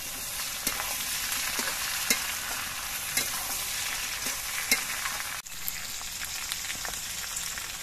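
Sliced capsicum and onions fry in a home-kitchen pan, giving a constant crackling sizzle with occasional louder pops and spatula scrapes, close and steady throughout with no one speaking.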